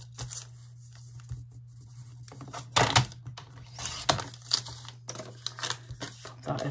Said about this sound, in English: Make a little tear in it again.